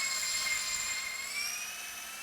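A 12v brushless impact driver from Hyper Tough or Bosch driving 2.5-inch deck screws, a high whining motor with rapid rattling hammering, steady and close, alone without speech.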